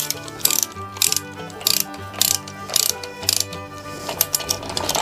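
Ratchet wrench clicking in repeated short bursts as bolts are snugged down during engine prep, each burst a quick run of sharp metallic clicks, close and loud over a faint steady hum.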